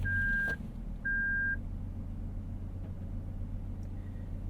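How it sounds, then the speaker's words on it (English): A 2023 Toyota Sequoia TRD Pro on an off-road course gives two sustained electronic warning beeps in quick succession over a low idling rumble, then a fainter short beep later, close inside the cabin. "I don't know why that thing is doing so much beeping."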